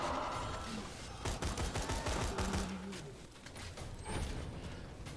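Hip-fired gunfire rattles in Borderlands 2 against spider ants, a quick run of rapid shots in the middle followed by scattered single reports, fairly faint against background game ambience.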